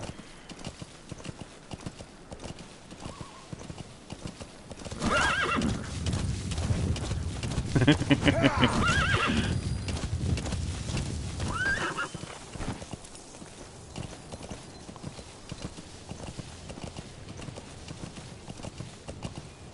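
Hooves clip-clop at a steady trot in Metal Gear Solid V: The Phantom Pain, growing louder and busier in the middle with a horse snorting, then settling back to a quieter rhythmic clatter.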